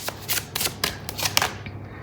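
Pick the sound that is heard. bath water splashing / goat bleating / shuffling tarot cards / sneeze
shuffling tarot cards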